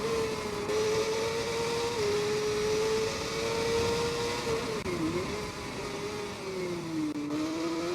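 A Yamaha superbike engine in the racing game TT Isle of Man 2 drones loudly and steadily, its pitch holding high then dipping and climbing as it revs through throttle changes, with no talk over it.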